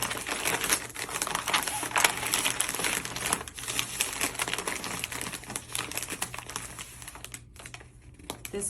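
Packing wrap being folded and rolled around a product, a close, continuous crinkling and rustling with small irregular crackles, fading briefly toward the end.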